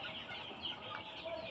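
Sonali chickens on a poultry farm cluck faintly and sporadically in a quiet, distant-sounding barn ambience, with no voices.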